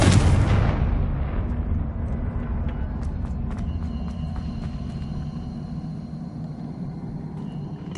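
Spell effects for Expelliarmus and Confringo in a Harry Potter video game: a loud blast opens, then a dense low rumble rolls on with scattered bright crackles and high ringing tones above it.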